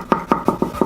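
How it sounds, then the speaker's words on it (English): A knife slices fresh tomatoes for pasta sauce on a cutting board, giving five crisp, close chops in a quick, even rhythm with no talking. "thinly slice them just so they can easily blend into our sauce"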